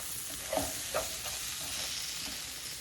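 Okra frying in a pan gives a steady close sizzle, with two brief stirring scrapes near the start as the pieces are flipped, then continued frying noise.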